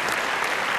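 A studio audience at a Hindi game show breaks into steady applause, a dense continuous wash of clapping filling the whole short moment.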